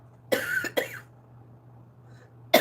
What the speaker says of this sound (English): I love that cough